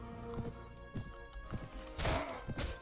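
Horse hooves clatter during a cavalry charge in the Mount and Blade Warband video game, with several close clip-clop hits, a possible whinny and a crashing impact near the end over steady game sound.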